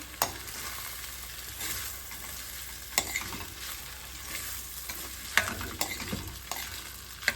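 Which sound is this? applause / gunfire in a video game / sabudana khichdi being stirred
sabudana khichdi being stirred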